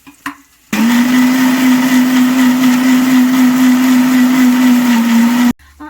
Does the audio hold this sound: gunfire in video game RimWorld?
no